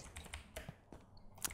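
Computer mouse with a sticking button clicks several times in quick, uneven succession during a Minecraft session, faint and close with quiet background noise.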